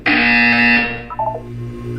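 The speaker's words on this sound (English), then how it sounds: "You will hear a buzzer." A loud, harsh electronic buzzer in the video game Portal 2 sounds for about a second before fading, followed by a few softer electronic tones and a low hum.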